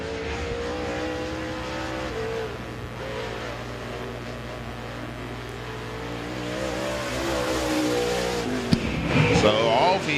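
Race car lapping Thunderhill Raceway during a qualifying session, its engine droning steadily with shifting pitch as it runs on the track, heard under continuous commentary from an announcer.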